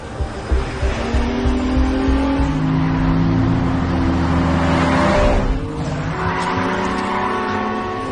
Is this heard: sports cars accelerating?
yes